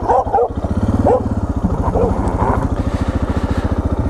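A camper's dog barks several times, loud and close, at a campsite while a motorcycle engine thumps in a steady, rapid rhythm underneath.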